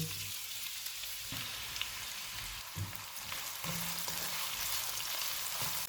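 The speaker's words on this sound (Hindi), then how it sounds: "ऑयल गर्म हो गया, इसमें 2 प्याज डालेंगे और गोल्डन फ्राई करेंगे" Two onions frying in about a third of a cup of hot oil, giving a steady close sizzle and crackle with occasional stirring clatters.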